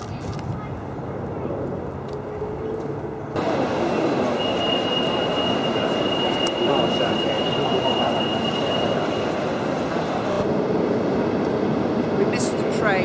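A train rolls past near the Marc Bolan shrine in Barnes, London, a loud steady rumble with wheel noise that swells suddenly and holds for about ten seconds before easing off.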